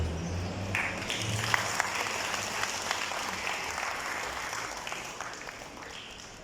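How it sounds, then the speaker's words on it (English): An audience at a prize-giving ceremony for a school environmental program in Mauritius claps steadily for the winners, a dense wash of applause lasting throughout and slowly tapering, heard from a distance in a large room. "Nous pouvons applaudir donc Bel Air State Secondary School pour le troisième prix"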